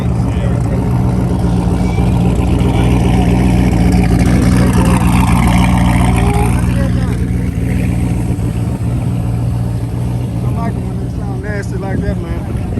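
A loud car engine revs and roars at an outdoor car show, steady and close throughout, with someone talking over it.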